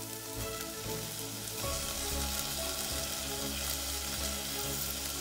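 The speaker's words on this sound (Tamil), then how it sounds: "இப்போ 2 நிமிஷம் நல்லா வதங்கணும்." Tomatoes and drumstick leaves sauté in a pan with a dense, close, continuous sizzle and crackle that grows louder and fuller after the first couple of seconds, with no talk.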